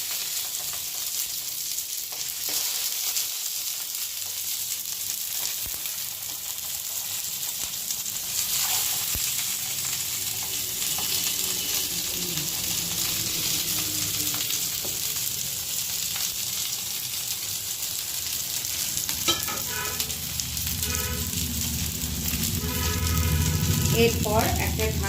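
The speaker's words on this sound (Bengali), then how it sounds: "এবার একটা একটা করে পাতুরি আমি চাটুতে বসিয়ে দিলাম।" Bhetki fish paturi, fish wrapped in leaves, sizzles on a tawa brushed with mustard oil. A loud, steady frying hiss runs throughout, with a few clinks and faint stirring noises near the end.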